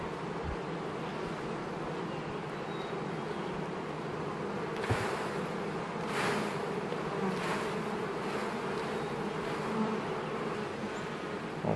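Honeybees buzz in a dense, steady drone as they are shaken off a hive frame, with a few soft thumps and brushing sounds mixed into the continuous hum.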